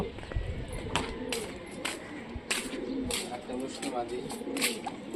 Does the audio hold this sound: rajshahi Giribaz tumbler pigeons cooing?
yes